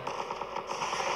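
Rapid gunfire in the game Zombie Defense rattles out as a fast, even stream of sharp shots, steady and sustained over a constant bright hiss of game sound.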